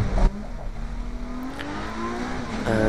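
Engine of a classic touring race car at Mallory Park in the Classic Touring Car Racing Club festival, a loud steady drone with rising pitch as it accelerates, briefly punctuated by a thump near the start.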